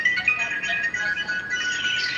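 A mobile phone ringtone plays nearby as a steady, continuous electronic melody with no talk over it.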